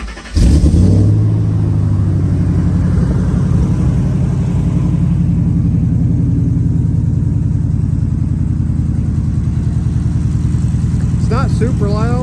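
A supercharged Ford F150 truck engine with a stainless steel exhaust idles steadily and loudly close by, a deep continuous rumble with a brief rev at the start, and a voice faintly heard near the end.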